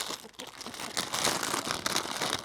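A small plastic bag holding screws and parts is opened, giving a close, continuous crinkling and rustling of thin plastic that grows busier partway through.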